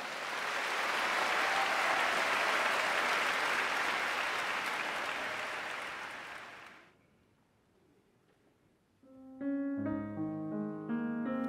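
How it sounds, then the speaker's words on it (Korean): A concert hall audience at Lotte Concert Hall applauds a correctional officers' choir coming onstage, loud dense clapping that fades out into near silence before instrumental music begins. "여러분, 교도관 교정 연합 합창단을 큰 박수로 맞이해 주시기 바랍니다"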